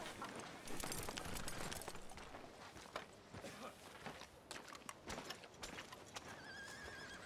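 A horse in the video game Red Dead Redemption 2 whinnies faintly while its hooves clip-clop and scuff irregularly on the ground, with rustling footsteps throughout.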